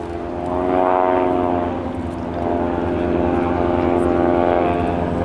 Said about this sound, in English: this will be a photo pass, giving you a beautiful look at these two aircraft